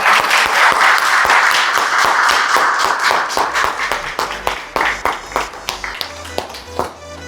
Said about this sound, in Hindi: एक बार सिलेक्शन वे के लिए और आप सभी के लिए खुद ही तालियां होनी चाहिए।